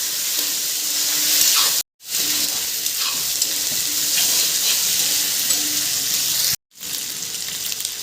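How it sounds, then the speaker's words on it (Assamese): Boiled pork pieces frying in a pan for an Assamese dish cooked with black lentils, a loud steady close sizzle broken by two brief pauses as the meat is stirred. "মাংস দি আকৌ ভালদৰে লৰাম, মানে মাংসখিনি ফ্ৰাই কৰি ল'ম"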